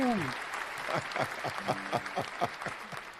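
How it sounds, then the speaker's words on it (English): An audience applauds to welcome the rider K Solo, a steady run of clapping from a room, fairly close, with a voice briefly heard at the start. "we're going to bring him in with the applause"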